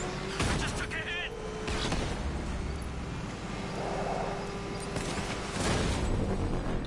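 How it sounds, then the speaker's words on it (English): Enemy gunfire in a shooter video game, bursts of rapid shots cracking through a dense battle mix with engine rumble, fairly loud and continuous, with voices talking over it. "I'm taking enemy fire!"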